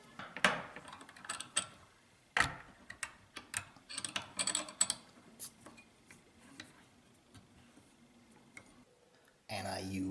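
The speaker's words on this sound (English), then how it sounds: "So I use this vise here and I compress the spring." A bench vise is tightened to compress the slide spring of a Smith and Wesson M&P pistol, giving scattered metallic clicks, ratcheting ticks and clunks at close range. A loud scrape near the end, with brief speech in between.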